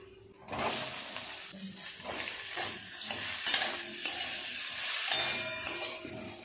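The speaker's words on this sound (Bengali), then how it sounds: "বেগুনগুলো ভালো করে ভেজে নিতে হবে" Brinjal pieces fry in oil in a kadai, starting with a sudden burst of sizzling and continuing as a steady close crackle, broken by scraping stir strokes and a few sharper pops.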